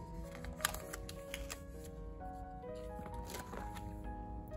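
A Kpop photocard slid out and tucked into storage, soft papery shuffling and plastic sleeve rustles close up, quiet and continuous over faint background music.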